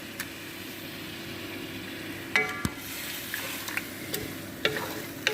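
Chicken and onions with peppers and garlic frying in a pot, a steady close sizzle broken by several sharp clinks and scrapes of stirring.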